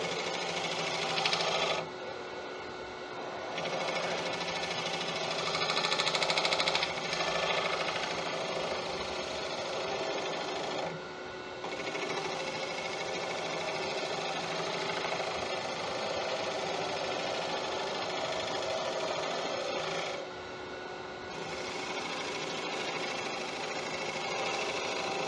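A wood lathe spins a cherry bowl as a tool takes off surface CA finish, a steady close mechanical whir and hiss running almost continuously with brief pauses.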